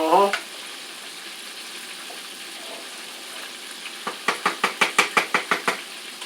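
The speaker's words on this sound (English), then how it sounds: "we're going to stir up our pasta" Pasta stirred in a pot of simmering water, a run of rhythmic knocks and clinks near the end over a quiet background.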